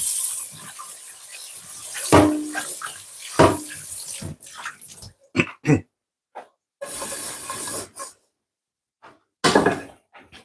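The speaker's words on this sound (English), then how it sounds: "Now we're gonna give this a rinse" Running tap water splashes as food is rinsed in a home kitchen sink, a steady gush at first that later breaks into short intermittent bursts with brief pauses of silence between them.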